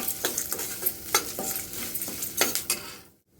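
Tamarind and other ingredients for coconut chutney frying in a pan, with a spatula scraping in repeated strokes over a constant sizzle, close up and then cutting off abruptly.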